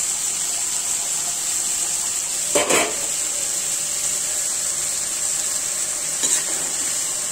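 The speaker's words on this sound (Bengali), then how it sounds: "নেড়ে দিব।" Vegetables and fish curry with pumpkin being stirred in a pan, a steady close sizzle running throughout with two brief scraping stirs of the spoon.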